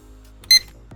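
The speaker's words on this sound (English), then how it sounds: "We should hear our first beep." A single short, high electronic beep from a toy stunt quadcopter's remote control rings out clearly against near silence, followed by a faint soft click.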